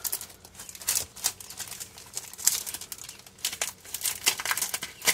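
Crinkly plastic packaging of a gnome-themed stamp set being torn and opened up close, with bursts of crumpling and tearing in an irregular rhythm and no talking.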